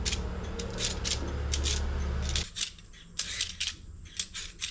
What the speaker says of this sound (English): we'll just peel the potatoes and make them ready